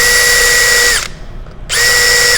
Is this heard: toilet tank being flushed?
no